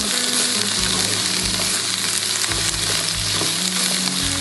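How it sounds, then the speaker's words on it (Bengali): Bitter gourd frying in oil as it is stirred around the pan, a steady close sizzle with intermittent scraping strokes of a spoon running throughout, no talking. "আমি গাছটাকে একটু নেড়ে চেড়ে তেলের সঙ্গে মিক্সড করে"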